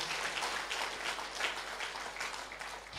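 Congregation clapping at a Sunday church service in Jakarta, a steady wash of many hands applauding throughout, moderately distant and without speech.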